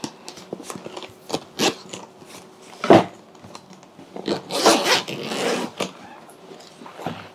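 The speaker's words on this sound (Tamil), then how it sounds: "specially designed zip, water proof zip" Waterproof zipper on a mobile pouch for a Honda CB200X motorcycle being pulled open, a series of short close rasping zips and plastic crackles in bursts, with handling clicks between them and no talk.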